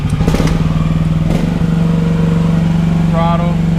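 An AGT L12R cheap Chinese mini excavator's small engine drones close and loud with a steady low hum, rising briefly as throttle is added, with some clatter at the start and a voice speaking over it.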